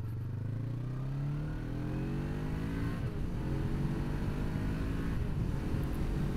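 A Voge 500 AC motorcycle's engine climbs steadily in pitch as it revs through the gears, a continuous droning whine heard from on board with wind noise.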